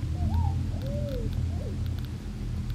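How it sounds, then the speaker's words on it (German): In the survival video game SCUM, several bird calls rise and fall as brief swooping whistles. They sound at a moderate distance over a steady low rumble of ambient wind or hum. "Interessant, dass es nur hier Vögel gibt, die solche Geräusche machen."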